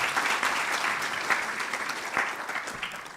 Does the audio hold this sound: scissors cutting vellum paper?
no